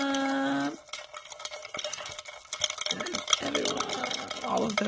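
Folded paper contest entries shuffled and mixed by hand, a soft irregular rustling and scraping that grows busier after a short tonal sound at the start.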